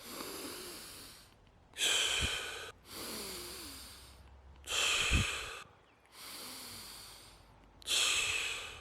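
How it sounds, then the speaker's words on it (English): Deep chest breathing exercise: slow, audible inhalations alternate with sharper, louder exhalations in a regular cycle, close and clear, about three full breaths with no talking. "So this is breathing through the chest."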